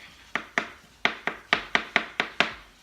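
Knife chopping fresh garlic on a cutting board, about ten crisp, sharp knocks in an uneven quick rhythm, close up and clear, with no talking.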